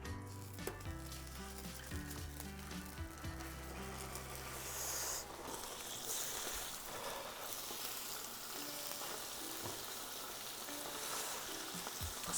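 Butter and thin slices of beef sizzle on a hot Korean BBQ grill, a steady close frying hiss with a few soft clinks and stirring sounds early on, no talking.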